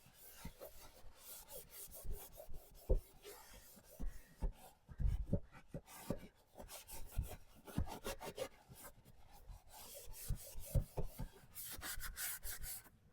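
Close, steady rubbing of wax being worked by hand into raw wood furniture, with irregular rasping strokes of varying loudness and no talking.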